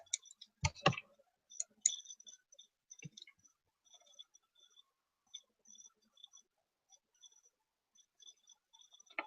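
A computer mouse clicks on a web page link, a few sharp, close clicks early on, then faint, sparse ticking in a quiet room.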